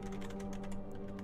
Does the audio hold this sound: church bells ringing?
no